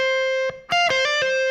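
Distorted electric guitar plays a short hammer-on pull-off phrase from a song's solo, a few quick high sustained notes with a brief gap between them, heard up close with no talking.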